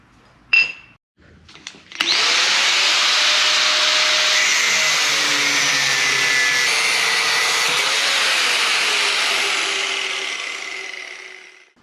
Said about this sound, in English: So first thing to do, chop them down.